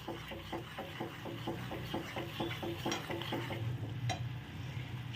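Spices are sautéed in a pan before fish goes in for a Bengali dish, with soft sizzling under a steady, rhythmic series of spoon scrapes and taps against the pan.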